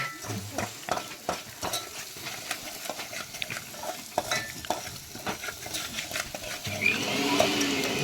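Chutney for paneer masala cooking in a pan on a village outing, stirred with repeated scraping and knocking strokes over a low sizzle, the frying growing louder and hissier in the last seconds.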